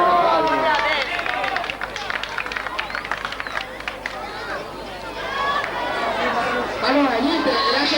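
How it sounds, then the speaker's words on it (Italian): An audience at the Giochi Senza Frontiere game show in 1991 claps and cheers, with lively chatter and shouting voices through the din; the crowd noise is loud and continuous, easing midway before rising again. "Un applauso signori, un applauso."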